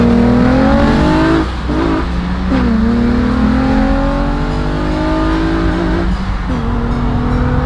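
A Nissan 350Z and a Genesis Coupe 2.0T roar through a roll race from 20, loud engines revving with rising and falling pitch as gears shift, steady close-up drone with no talking.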